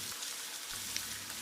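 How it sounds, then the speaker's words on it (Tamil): Carrot, ginger and chopped green chilli frying in a pan, giving a steady, soft sizzle with a faint wet crackle throughout, no voices. "கேரட்டில் இருக்கிற ஈரப்பதம் போகிற அளவுக்கு இதுவும் ஃப்ரை ஆகணும்."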